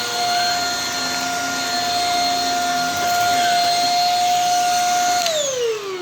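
A Shark Rocket vacuum cleaner runs close by with a loud, steady high whine, and its pitch drops near the end as the motor winds down.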